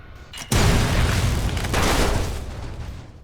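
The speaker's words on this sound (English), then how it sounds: "or just explode them using the overload option" A hacked robot overloads and blows up in a modded Fallout New Vegas, a sudden loud boom that bursts in after a short lead-in, then a long roaring rumble with a second swell before fading.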